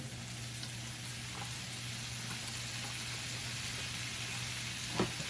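Chopped roast pork lechon sautéing in a pan, a soft steady sizzle under a low constant hum, with a faint clink near the end.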